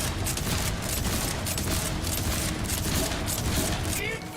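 Hellwalker gun in Borderlands 4 firing incendiary shots, a dense continuous barrage of rapid blasts and booms, loud and close, with a voice talking over the gunfire.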